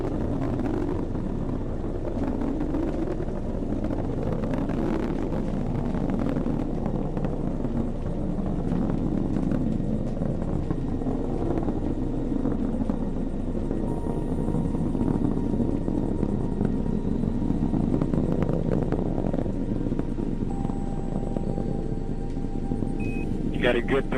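An Atlas rocket carrying Boeing's Starliner capsule roars steadily through max Q in a continuous, dense, broadband rumble that holds for the whole stretch, with a voice talking over it.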